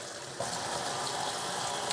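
Water stream pouring steadily from an off-grid flow heater, a broad continuous hiss and splash that begins abruptly and runs on at an even level to the end.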